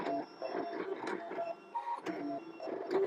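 Brother ScanNCut machine cutting paper on a mat, a close, moderately quiet motorized whirring with shifting tones and small clicks as the cutting head moves back and forth.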